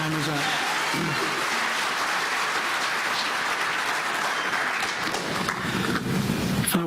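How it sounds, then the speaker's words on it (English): An audience at a public hearing on a quarry claps in a sustained wash of applause, with scattered voices and murmurs mixed in throughout. "I can't stop you from clapping"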